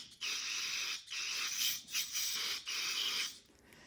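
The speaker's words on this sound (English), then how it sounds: "just spray it in there till it comes out the bottom" Carburetor cleaner is sprayed from an aerosol can into a Craftsman snowblower carburetor: several hissing bursts, each lasting under a second, close and fairly quiet, separated by brief pauses.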